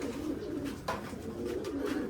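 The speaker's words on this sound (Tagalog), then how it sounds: "ito na sila mga kalapatids. Yung dalawang ibon natin." Pair of Japan-line racing pigeons, one opal and one blue bar, cooing in soft repeated low murmurs, close by and steady, with a brief brighter chirp partway through and no talking.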